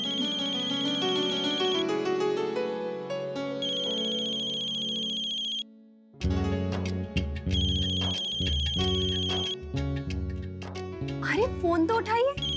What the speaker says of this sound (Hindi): फोन तो उठाइए।